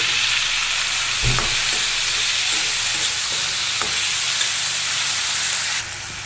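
Chopped tomatoes frying in a pan with salt and turmeric: a loud, steady close sizzle broken by a few stirring knocks, dropping slightly in level at the end.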